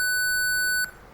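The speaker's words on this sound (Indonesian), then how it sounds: "LED menyala, dan buzzer berbunyi." A steady electronic buzzer tone from a smart parking alarm system simulation sounds alone, clean and sustained, then cuts off abruptly after under a second.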